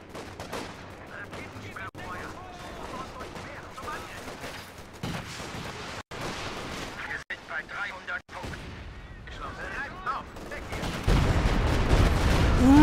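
Video game battle gunfire from troops shooting at a squad leader: dense, continuous crackling shots and heavier blasts mixed with distant explosions, with a voice talking over it.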